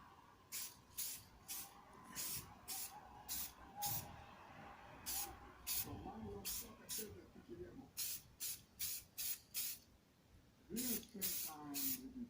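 Short bursts of spray paint hiss in a quick, uneven rhythm as a first coat goes on, each spray lasting about a second, with a person talking quietly in between.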